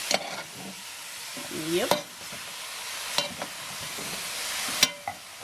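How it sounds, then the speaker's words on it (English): Oxtail sizzling and frying in a pot while a spoon stirs and scrapes it in several separate strokes, with a short spoken reply in between. "Stir it up some more."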